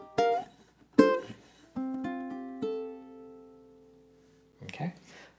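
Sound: ukulele playing the bars ending theme number two

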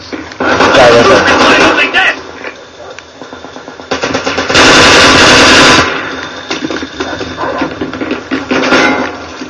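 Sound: rapid-fire gunfire from a modded video game

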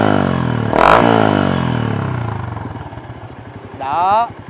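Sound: Yamaha Exciter 150 motorcycle revving with King Rắc stainless 304 exhaust

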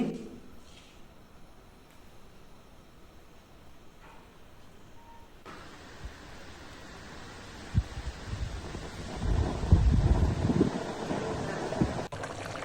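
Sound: wind blowing

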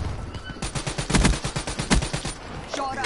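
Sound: LMG gunfire in video game Black Ops 3 beta

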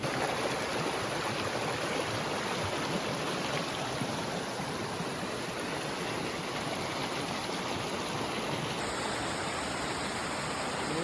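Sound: small waterfall

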